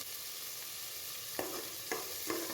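Cut vegetables sauté in a pan for sambar under a steady, even sizzle, with three distinct scraping stirs of a spoon, close and moderately loud.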